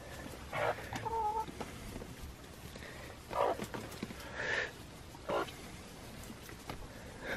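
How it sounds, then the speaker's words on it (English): Chickens cluck and squawk in a greenhouse kept for them in winter, several close bursts of calls rising over a low, steady background. "we keep the chickens in the greenhouse during the winter time"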